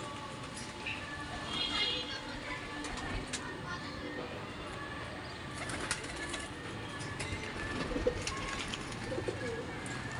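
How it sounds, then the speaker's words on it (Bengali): A flock of pigeons coos and takes off around a rooftop pigeon loft, with soft scattered calls and wing flutters over steady outdoor background noise throughout. "আর এই যে সব পাশে পায়রা উঠছে, এদিকে একটা ঝাঁক উঠছে"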